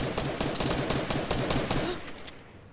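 Rapid bursts of gunfire in the Fortnite battle royale game, dense repeated shots fairly loud and close, fading toward the end with no talk.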